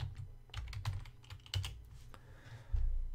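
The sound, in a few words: typing on a computer keyboard, entering CCleaner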